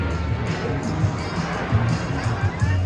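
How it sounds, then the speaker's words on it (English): Outdoor crowd at an air show in Sacramento, California, applauding and cheering for the Blue Angels C-130 Fat Albert, a broad, diffuse wash of clapping and voices with a low rumble underneath. "A big round of applause, everybody, for the Blue Angel C-130 Fat Albert"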